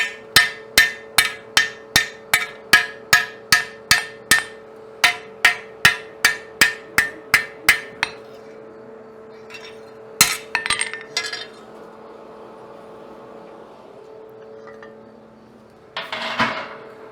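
A blacksmith strikes hot metal with a ball peen hammer in a steady run of sharp ringing blows, about two per second for eight seconds, followed by scattered clanks and a scraping clatter near the end.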